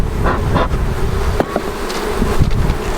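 Honey bees buzz around an opened hive during honey harvest and winterizing, a dense close swarm drone with faint wind noise and scattered handling knocks, no voices.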